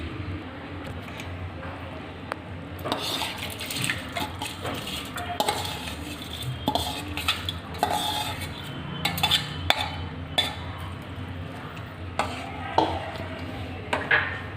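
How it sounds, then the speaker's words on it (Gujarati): Rice with moong and toor dal gets stirred in a cooking pot for Punjabi khichdi, a run of irregular scraping and clinking of a metal spoon against the pot, close and moderately loud. "હવે તેને મિક્સ કરીને"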